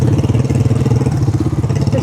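A four-wheeler ATV engine revs hard while its tires spin in mud, a loud, close, throbbing low drone with rapid pulsing that holds steady for about two seconds.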